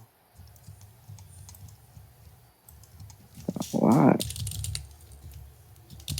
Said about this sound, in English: He's loud. He's typing.